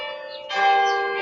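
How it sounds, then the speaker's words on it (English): Church bells ring out close by during an outdoor folk fringe festival event, a sustained layered peal that swells suddenly and keeps ringing steadily with no talk over it. "Ah, there they go, the bells."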